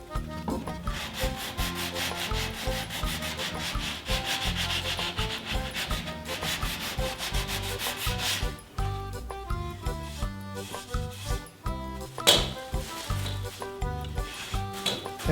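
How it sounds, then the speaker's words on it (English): A wooden stair spindle is hand-sanded to rough it up for paint, with close, continuous rhythmic rubbing strokes that grow sharper and more broken toward the end. "So what we want to do is prepare this for paint, and rough up the surface,"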